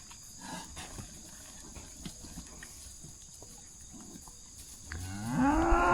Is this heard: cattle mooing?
yes